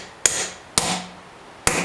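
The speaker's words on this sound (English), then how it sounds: "You're going to take your hammer and we're just going to tap gently" Three sharp hammer taps on a metal tire tool, pushing a tire bead under the rim, spaced irregularly, each a crisp close strike with a brief ringing decay.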